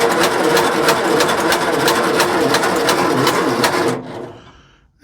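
Starter motor cranking a military Coventry Climax generator engine, a steady close whirring churn with rapid regular pulses for about four seconds, then cutting out and leaving near silence.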